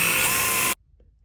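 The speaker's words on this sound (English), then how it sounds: "Expect to drill a lot of holes." A drill boring holes in sheet metal during a fastback conversion of a 1967–68 Ford Mustang coupe gives a loud, steady whirring grind that cuts off abruptly partway through, leaving near silence.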